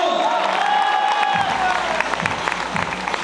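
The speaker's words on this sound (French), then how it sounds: "Plus d'applaudissements." A crowd claps loudly and steadily, with a few cheers. A high tonal sound rings over the start, then fades, leaving dense, close clapping.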